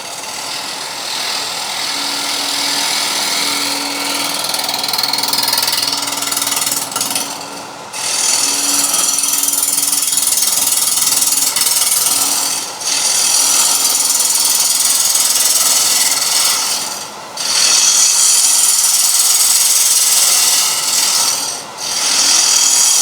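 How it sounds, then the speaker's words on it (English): A wood lathe spins a platter blank while a swept-back wing gouge trims its face, giving a loud continuous scraping and cutting rasp in long passes. Brief dips separate them, and no voices are heard. "I'm just going to use my swept back wing, and we're just going to trim the face"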